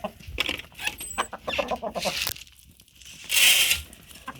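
Chickens cluck and squawk close by in a busy, overlapping chorus, with crinkling and rustling noises among them.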